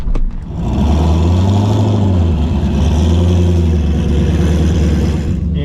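A turbocharged 5.3-liter engine in a C4 drag cart fires up after a brief sharp start, then holds a loud, close, lumpy rumble that swells and dips slightly as it runs, with no talking over it.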